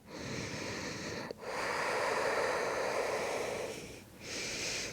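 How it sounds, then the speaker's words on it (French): A deep, slow breath during a morning vinyasa yoga session: a long, airy inhale, a short pause, then a sustained exhale, close and steady. "Une dernière respiration comme ça."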